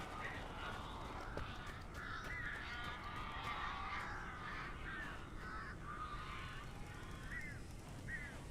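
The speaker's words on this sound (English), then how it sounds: "These birds are weird." Crows in the video game Alan Wake Remastered caw repeatedly, harsh calls scattered through a steady low ambient bed, some overlapping and several coming in quick pairs toward the end.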